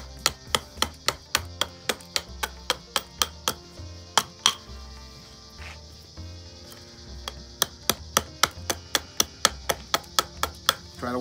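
A knife carves out the inside of the bowl of a wooden spoon with crisp, rhythmic cutting strokes, close and distinct, in steady runs broken by a short pause, with no voices.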